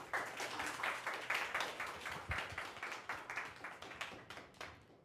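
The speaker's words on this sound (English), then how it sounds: "one more round of applause" Applause at a talk on club music, made up of scattered individual claps in a steady patter that fades slightly toward the end, moderate in level with no voices over it.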